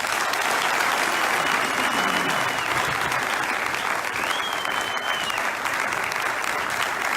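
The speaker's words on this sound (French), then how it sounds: "on voudrait bien entendre vos applaudissements" A political debate audience in Kisangani gives sustained, dense applause, steady and loud throughout, with a faint whistle and crowd noise mixed into the clapping.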